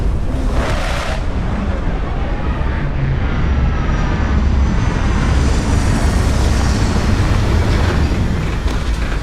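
A spaceship in the game Starfield sets down, a loud, steady roar of engine rumble and broadband rush that holds for about nine seconds with no break.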